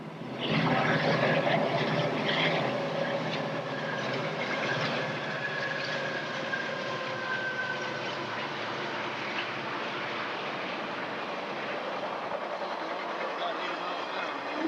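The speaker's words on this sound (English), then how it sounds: "Susan, get that train." A train rumbles past close by in Canada, a loud, steady broadband roar that holds through the whole stretch, with people talking over it.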